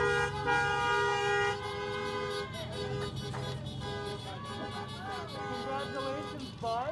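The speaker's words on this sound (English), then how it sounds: "As you can hear the horns in the back" Car horns honking during a 2020 high school graduation car processional outdoors: overlapping sustained and shifting horn tones from several vehicles throughout, moderately loud and somewhat distant, with a person talking over them.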